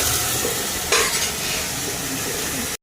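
Tempering for amla (gooseberry) chitranna sizzles in a hot pan while being stirred, a close, steady hiss with a brief louder scrape of the spoon about a second in.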